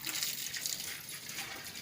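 Water pouring and splashing onto a plant to rinse the soil away, a continuous close gush lasting under two seconds with no talking.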